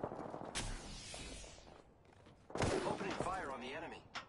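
Gunfire in a Fortnite-style battle royale game: a sharp shot, then a louder burst of close gunfire after a brief lull, over quiet in-game background noise, with a voice speaking at the same time.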